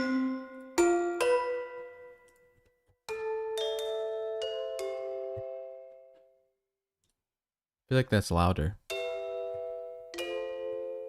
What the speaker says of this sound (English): this is the bass sound of the Gamelan library, and it's just like nice, natural